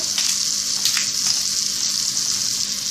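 Medium-sized apple chunks sizzle in butter in a hot pan, a loud, even frying hiss that holds steady with a few soft stirring bumps.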